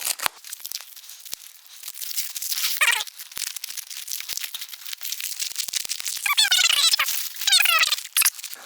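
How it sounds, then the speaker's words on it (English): Protective plastic wrapping is peeled and torn off KNK Shields guitar amp barrier screens, with crinkling, rustling and sharp squeaky tearing that builds to louder bursts near the end, close and without talk. "as I unwrap the last little bit here"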